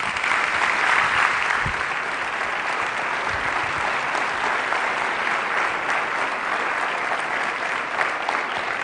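Sustained audience applause fills a hall at a Juventude Socialista convention as the President of the National Commission is welcomed, steady and dense throughout with no voices over it.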